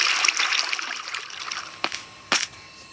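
Flowing water in the Minecraft video game, a soft hissing trickle under game audio, broken near the end by two sharp brief clicks.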